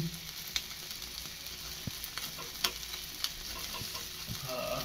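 Chicken frying in a pan over a gas flame, a steady low sizzle with occasional sharp pops and crackles, fairly quiet and close with no voices.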